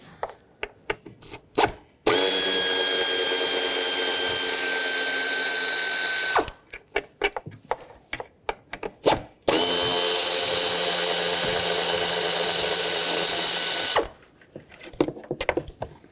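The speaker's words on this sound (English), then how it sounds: "take a 5mm Allen socket and remove the 4 bolts that hold on the throttle body" A power tool with a 5mm Allen socket backs out throttle body bolts on a 2013-2020 Nissan Pathfinder 3.5L V6, giving two long, loud sustained whirs separated by sharp clicks and ratcheting taps.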